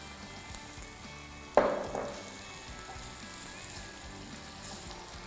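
Onions and garlic dropped into a pan of melting fat for soup, a sharp sizzling burst on contact that settles into a steady, fairly quiet frying hiss, close and without talk.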